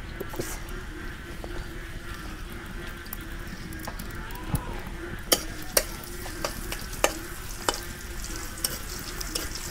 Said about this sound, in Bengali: শুটকি মাছ কষাবে নিগে পেঁয়াজ কুচি দিয়ে দিই।